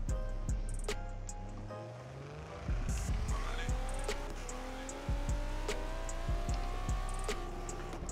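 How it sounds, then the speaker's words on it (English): A 2017 Nissan GT-R in Forza Motorsport 7 skids under e-brake across a rumble strip, engine droning steadily with rising tones and a burst of rattling, thudding strip impacts midway, loud and close. "Pulling the e-brake on a rumble strip is just bad for your health."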